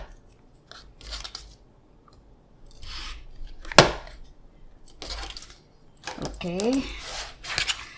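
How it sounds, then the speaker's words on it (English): Scissors snip the corner off a fabric quilt block in a few short, crisp cuts with pauses between them, close by, alongside brief speech. "Trim off the corner."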